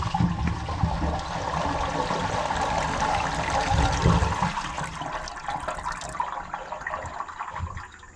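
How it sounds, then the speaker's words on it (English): Raw sewage pours steadily from a broken drain pipe into a house crawl space, a continuous close splashing, gurgling flow with no talk. "So every time they were flushing and using their fixtures, it's all coming out right here."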